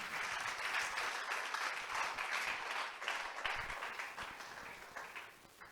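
A church congregation claps together, a broad, continuous crowd of hands beating at a lively pace, fairly distant and steady from start to finish.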